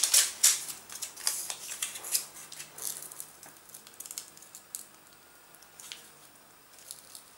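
Scissors cut through paper, snipping a cut-out shape from a drawing in a series of short, crisp, irregular snips, fairly close and quiet with no talk.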